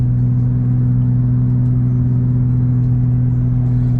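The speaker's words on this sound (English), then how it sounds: "Listen to the Raptor." A Ford Raptor truck engine idles and rumbles steadily up close, a loud continuous low drone with no talking over it.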